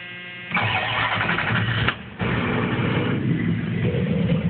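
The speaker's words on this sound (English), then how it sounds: "I'll go ahead and start this thing up though." Old Chrysler truck engine cranks, catches and fires up after a brief hitch, then settles into a steady rumbling idle close by, with no talking.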